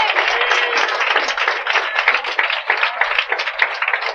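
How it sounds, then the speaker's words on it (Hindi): Congregation clapping hands in praise during a Hindi Christian worship service, a loud, continuous patter of many hands at close range, steady throughout. "धन्यवाद ताली बजाकर हम प्रभु को महिमा करेंगे"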